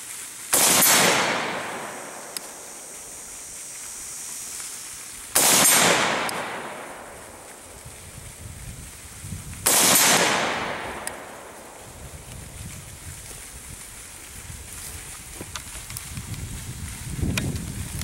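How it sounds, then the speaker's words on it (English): A Polish Tantal AK-74 variant rifle fires at a steel plate about 100 meters away outdoors: three loud, sharp shots spaced several seconds apart, each trailing off in a long echoing ring. "Take a few shots, see if we can make it ring a little bit."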